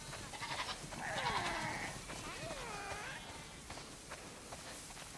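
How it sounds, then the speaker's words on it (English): Several sheep in The Last of Us Part II bleat in overlapping, wavering calls at moderate distance over a soft background hiss. "Wow, that's a lot of sheep."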